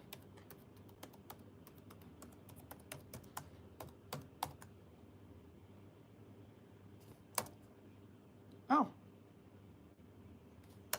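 Keys clack on a computer keyboard as a password is typed to log in to a Raspberry Pi 4, a quick run of close, quiet taps and then a pause before a few scattered louder presses.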